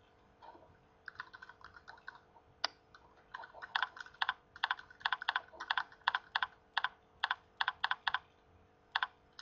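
Someone types on a computer keyboard, starting with soft scattered taps that turn into quick, steady runs of crisp, close keystrokes, with no talking.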